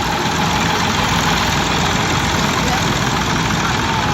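Massey Ferguson 135 tractor engine idling at an agricultural show, a loud, steady, dense engine drone that continues unbroken throughout.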